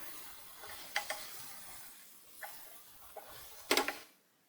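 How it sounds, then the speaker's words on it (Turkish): Mushrooms cooked down with a spoonful of tomato paste in a pan, heard as a few sharp utensil scrapes and one louder sizzling stir near the end over quiet kitchen background. "Salçamın da kokusu çıkıncaya kadar kavuruyorum."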